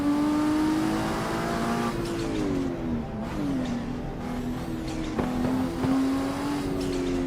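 A Toyota Supra MK4 in a racing simulator game revs and shifts through the gears, its engine tone rising and dipping, with turbo whooshes and flutters over it. The sound is loud and continuous, with no talking.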